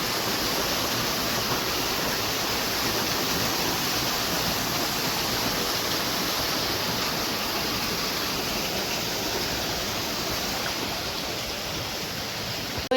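Excess water pours back into a farm water tank, a steady, loud rushing and splashing flow that continues unbroken throughout with no voices.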